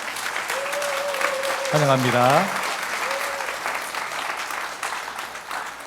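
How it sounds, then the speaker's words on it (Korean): Church congregation applauding during a Korean Sunday worship service, welcoming guests with a steady wash of clapping while someone speaks over it throughout. "잠깐 일어서시면 우리 큰 박수로 환영하겠습니다"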